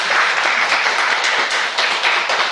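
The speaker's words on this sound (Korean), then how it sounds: "박수로 환영해 주시고요." A congregation at a Sunday church service applauds to welcome new members, a dense, steady wash of many hands clapping together, fairly loud and continuous throughout with no break.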